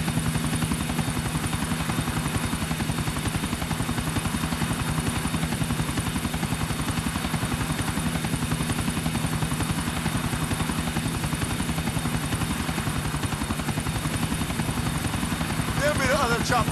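A helicopter in Grand Theft Auto IV gives a continuous loud rotor chop and engine drone throughout, with people talking over it.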